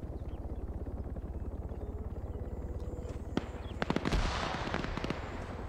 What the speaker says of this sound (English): Just heard something explode to the south.